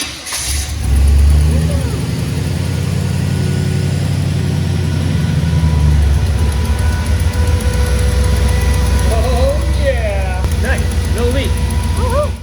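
A Jeep CJ on 43-inch tires cranks and fires up, then settles into a loud, rumbling idle close by, with a few faint background noises toward the end.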